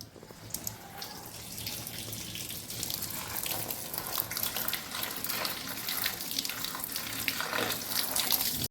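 Steady cold running water from a tap splashes continuously over drained pasta, a broad hissing flow that holds at a constant level throughout, with no voices.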